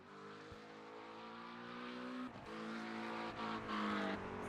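GT3 race cars lapping the Spa circuit in the iRacing sim, engines whining and shifting through gears with rising pitch, a couple of cars overlapping, fairly faint and steady without talk.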